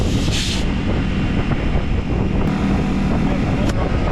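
Outdoors beside a pickup truck, wind blows hard into the microphone, producing a loud, constant low-heavy rumble and buffeting that fills the whole stretch without letup.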